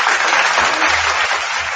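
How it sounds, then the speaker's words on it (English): A group gives loud, sustained applause on a children's show, a thick, continuous patter of many hands with no break. "Let me give it a little applause for knowing the day of the week."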